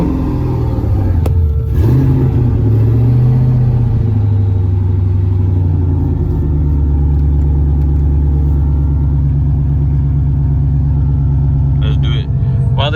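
A truck engine rumbles with a brief rev at the start, then settles into a steady, deep idle that continues close by.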